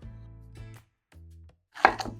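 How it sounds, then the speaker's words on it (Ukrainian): A knife cuts through firm zucchini on a board: a crisp chopping thud near the end, after stretches of low humming tones. "я кабачок розділяю на такі частини і нарізаю його сегментом такими скибочками."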